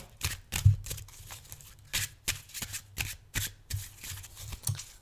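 Tarot cards being shuffled close by, a series of crisp riffling bursts and soft slaps in an uneven rhythm, with no talking.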